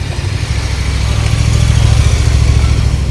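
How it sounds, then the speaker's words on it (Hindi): A motorcycle engine rumbles at low pitch on a Cyprus street in the morning, holding a steady, fairly loud drone that swells slightly as the bike draws nearer, with no talking over it. "ये देखो भाई साहब, मेरी ड्रीम बाइक आ रही है।"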